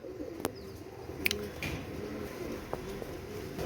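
A Pakistani golden pigeon coos softly at a distance in a quiet coop, mixed with faint bird chirps and a few brief taps.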